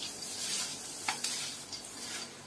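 Crisp roasted poha chivda being tossed and mixed by hand, a close, dry, continuous rustle with a couple of brief crunchy accents.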